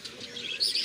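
Pigeons in a pigeon-flying contest call briefly and faintly, a short, soft chirping burst in the open air with no one speaking.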